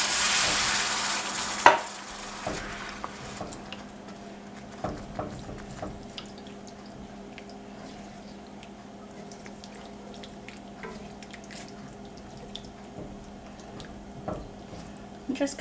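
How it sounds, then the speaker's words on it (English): Tomato gravy is whisked in a pan on a Southern-style stovetop, giving faint irregular taps and scrapes under a low background hum, with a quiet voice present. "Just keep whisking it because you don't want lumps to form."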